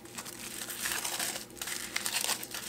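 Foil wrapping crinkles and crumples continuously as a phone is unwrapped from it, a close, busy rustling that runs throughout with no talk.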